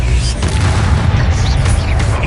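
A loud, close boom of the Expelliarmus spell fired in a Harry Potter video game, dense and rumbling through a short spell battle, with a voice blended into the din.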